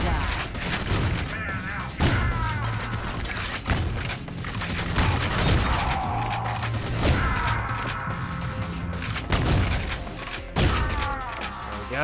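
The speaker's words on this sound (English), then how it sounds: "Shotgun that doubles as a grenade launcher." Shotgun blasts in the retro first-person shooter Ion Fury, a shotgun that doubles as a grenade launcher, firing several heavy booming shots at irregular intervals with mechanical clatter between, dense game sound throughout and a voice talking over it.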